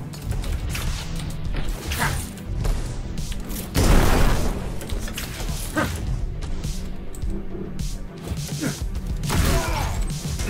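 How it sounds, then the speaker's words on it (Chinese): Explosions and crashing impacts from the Ghostrunner 2 demo video game boom loudly and continuously, with a heavy blast near the middle amid dense clattering and thudding game action. "这个爆炸效果做的有点"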